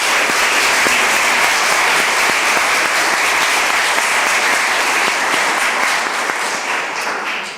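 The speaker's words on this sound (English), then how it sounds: "a round of applause, please." Sustained audience applause fills a hall at a legal awards ceremony held by the Austrian Bar Association, a dense, steady roar of many hands clapping close by that tapers slightly near the end.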